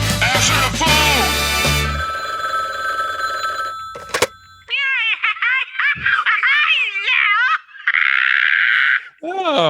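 A telephone rings in a short burst at the start, followed by high, bouncy cartoonish voices chattering and giggling over it in a lively exchange.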